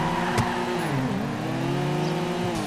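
A car launches in GTA V with the handbrake and throttle held together and the handbrake then released. The engine revs loud and steady, its pitch dipping and rising as it pulls away, and nobody speaks.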